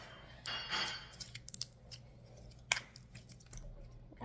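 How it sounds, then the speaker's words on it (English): Jelly slime gives off sharp, faint crunching pops and crackles when handled, scattered in irregular clusters over a quiet background. "Jelly slime. You ready? Listen to this crunch."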